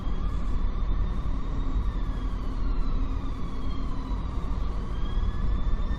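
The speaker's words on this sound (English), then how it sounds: "there's a police siren outside" A wailing police siren sounds steadily throughout, its rising and falling tones carrying over continuous traffic rumble.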